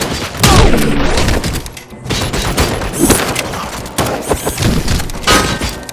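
Heavy gunfire erupts in the RoboCop Rogue City video game in an old industrial area, with rapid bursts, booming impacts and shattering debris filling the scene loudly and continuously.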